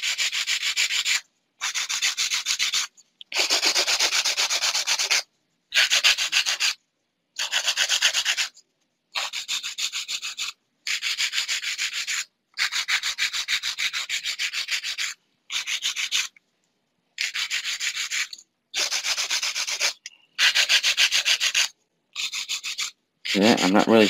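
An acrylic nail is filed with a 100-grit file in about fifteen rough, raspy strokes, each one to two seconds long and separated by short silent pauses, close and clear.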